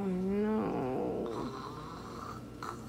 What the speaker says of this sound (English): Is Rizzo snoring